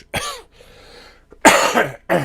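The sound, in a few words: man coughing with a cold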